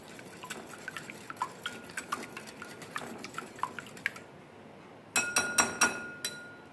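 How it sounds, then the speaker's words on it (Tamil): Eggs whisked in a bowl for an omelette, a metal whisk ticking and clinking against the bowl in a quick irregular rhythm, followed by a few louder sharp taps near the end. "அப்புறமா ஒரு விஸ்க் வச்சு நல்லா மிக்ஸ் பண்ணி எடுத்துக்கோங்க."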